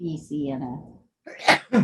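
A single sharp sneeze bursts out during an acrylic painting session, following a short stretch of talk and a pause, loud and close with a quick two-part explosive burst.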